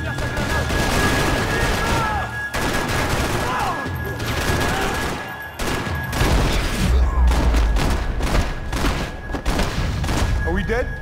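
Rapid automatic pistol fire crackles in repeated bursts during a Max Payne 3 gunfight, with loud close shots, booms and impacts layered densely, while voices talk and shout over the action.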